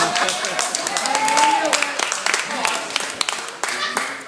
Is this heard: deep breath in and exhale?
no